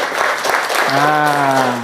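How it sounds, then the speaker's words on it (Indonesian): Classroom applause from students in a fifth-grade maths lesson rises as a brief burst of clapping, with a voice speaking over it and a sustained vocal tone toward the end. "tepuk tangan untuk Ica sama Sarah"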